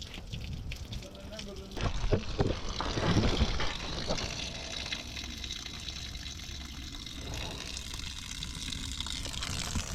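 Liquid gushes and splashes continuously out of removed engine cooling pipes, a close, steady pouring and spattering that swells briefly early on, then runs on evenly.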